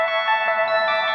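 Vocal processed through the Antares vocal reverb plugin with a tube-distortion character: a short, gritty, sustained tone with heavy harmonic buzz and a swirling, slightly echoing shimmer.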